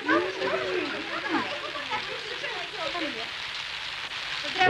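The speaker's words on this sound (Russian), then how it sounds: "Ой, какой дождь" Rain falling outdoors, a soft steady patter under a busy background, with people talking over it throughout.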